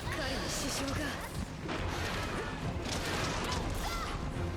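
Video game weapon fire aimed at monsters, a dense run of loud gunshots, crashes and impacts that continues with little pause, close and busy, with speech mixed in.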